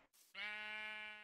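A single sustained sheep bleat from Minecraft, clear and fairly close after a brief noisy burst, with no talk over it.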